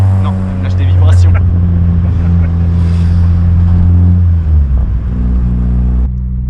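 A Citroën Saxo VTS fitted with a Groupe N exhaust rumbles deeply and steadily up close, the low drone shifting pitch partway through as the engine settles, with people talking over it.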